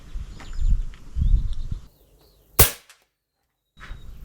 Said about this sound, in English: this is FX Impact with the 27 grain slug with no moderator on the end